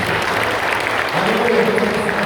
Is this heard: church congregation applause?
yes